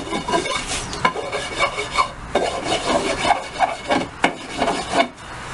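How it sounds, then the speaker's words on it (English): A fine hand file smooths the edge of a pallet wood board in a close, rhythmic series of rasping strokes, each a short scratchy rub repeated about twice a second. "right now there are no splinters going to get me using this fine file like this. Nice smooth edge."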